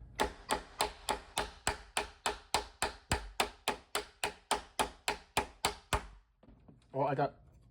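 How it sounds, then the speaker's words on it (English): A small hammer taps a Ryobi door latch chisel in a rapid, even series of sharp metal strikes, around twenty hits, followed by a brief voice at the end. "Let's whack it. I'm using a small hammer."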